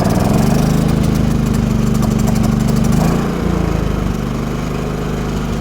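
A Firman WH3200iE dual fuel generator running on propane drones steadily and loudly up close, its engine note dipping and settling into a slightly lower, even hum partway through.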